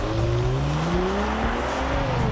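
A 2018 Kia Stinger GT2 AWD accelerates from a standstill, its engine note climbing steadily and loudly over continuous road and tire noise.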